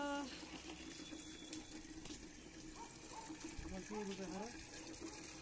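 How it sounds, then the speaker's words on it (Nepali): An elderly man pours water around the base of a pomegranate tree, giving a steady rushing gush that runs throughout beneath people talking. "यो हिजो देखाएको अनारको बोट सबैतिर बुढाले पानी हाल्नुहुन्छ।"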